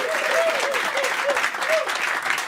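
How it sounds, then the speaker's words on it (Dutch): Steady audience applause at a live stage event, a dense, loud wash of clapping hands that holds throughout, with a voice briefly sounding over it. "Daar mag best even voor geklapt worden."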